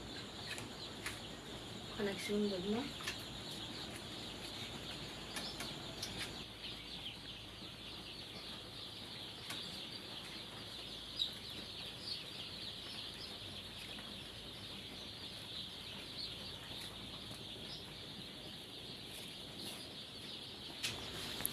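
Chickens on a Bangladeshi poultry farm cluck faintly and steadily in the background, with a brief louder burst of activity near the start and a low continuous flock murmur throughout.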